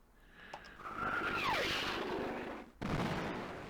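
An airstrike in the video game Worms brings a falling whistle and then explosive booms. A brief silence follows, then another blast, with no speech.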